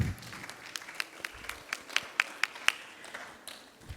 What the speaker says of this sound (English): So I think we all have to clap for her.